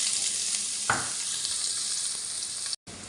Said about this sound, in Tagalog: Nilagyan ko na nga po ng mantika, mga boss chip. Then, ilagay ko na po yung sibuyas.